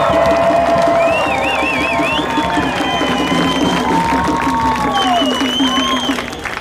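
A large protest crowd on Front Street in downtown Toronto roars and cheers with clapping and high shouted yells, a dense, loud and continuous din close by that fades slightly at the end.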